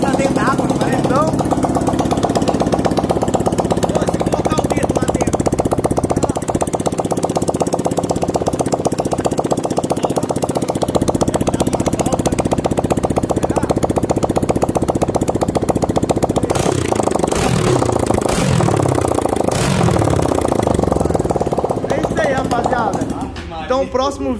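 A Honda Titan 150 motorcycle engine, bored to 222cc, idles roughly for a long stretch with a steady low rumble, then the revs rise and fall a few times before it cuts off.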